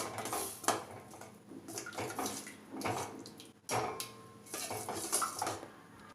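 Milk is stirred into white sauce for pasta in a pan, giving repeated close scraping and clinking of a utensil against the metal in an uneven rhythm with brief pauses.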